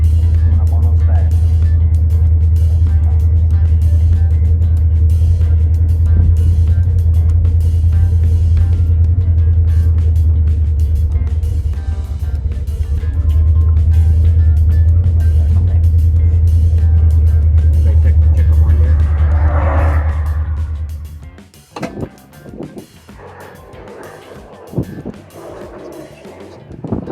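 An old Ford Thunderbird engine runs steadily while driving, a loud low rumble lasting about twenty seconds before it drops away, leaving quieter clunks and rattles.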